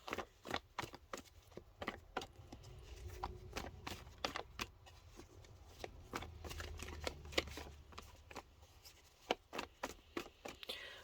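A Modern Witch Tarot card deck is shuffled close by, a fast run of crisp riffling flicks and taps repeating steadily throughout, quiet and with no voice.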